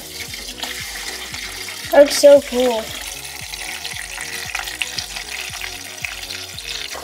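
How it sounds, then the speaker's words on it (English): Water gurgles and splashes steadily as it is poured into a 5-gallon aquarium tank, under a rhythmic low thumping background, with a brief excited voice speaking midway. "now we're slowly going to dump the water in."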